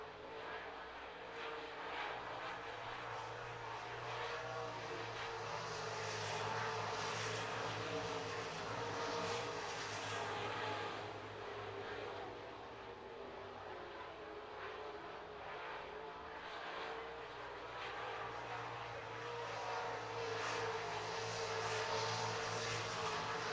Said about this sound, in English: Let's listen to the sound of the cars.